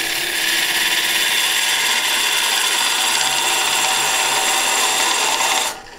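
Wood lathe tool cuts steadily across the end of a spinning branchwood vase, a continuous loud, hissing scrape that holds even for several seconds before cutting off abruptly at the end.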